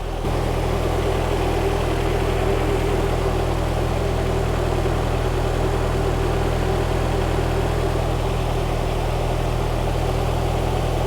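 A car engine runs at a raised idle with the cooling fan going, producing a steady, unbroken low hum and whir that holds constant for the whole stretch.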